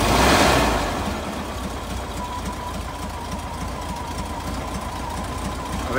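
A 1970 VW T2a Westfalia camper van with its original exhaust idles steadily nearby, giving off an even, rapid chugging pulse after a brief louder swell at the start.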